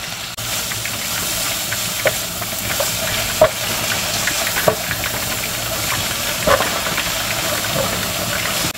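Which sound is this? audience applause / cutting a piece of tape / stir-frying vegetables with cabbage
stir-frying vegetables with cabbage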